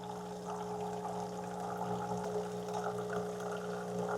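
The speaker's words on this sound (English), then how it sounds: "Now it's adding the water." A coffee machine pumps and pours water, a steady hum with a continuous liquid trickle, close and quiet, with no talking.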